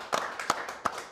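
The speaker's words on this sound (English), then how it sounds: "Let's clap to that" Hand clapping during a lively talk-show conversation, a few quick claps heard faintly at moderate distance with no speech over them.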